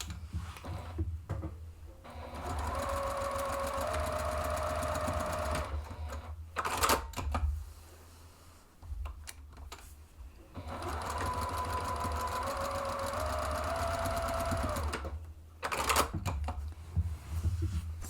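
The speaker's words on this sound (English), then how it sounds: "is to stitch 1 inch from each of the sides along the base, and reinforce that really well with a back stitch." A sewing machine stitches the base seam of a zippered bag in two long steady runs of fast mechanical whirring, each ending with a backstitch, separated by clicks and handling noises, close up with no voices.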